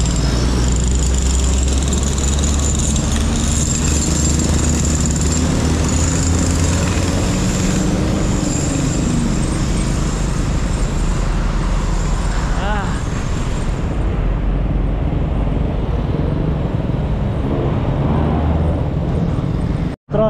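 Dense road traffic heard from a motorbike riding out of Manila toward Bulacan, a loud, steady roar of engines and wind with low rumbling throughout and a voice talking over it.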